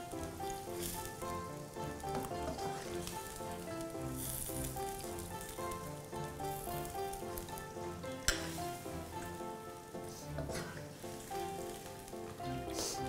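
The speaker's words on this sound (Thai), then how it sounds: "ผัดจนเนื้อนะคะเริ่มสุกเข้าที่ดีกับเครื่องพริกแกงนะคะ" Steady sizzling of beef stir-frying with green curry paste in a hot pan, with occasional scraping and stirring noises, close and continuous with no talking.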